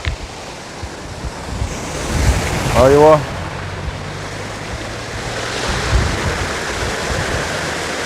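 Water rushing steadily through a mountain channel in Oman, a broad continuous wash close by with wind buffeting the microphone and a man briefly exclaiming over it.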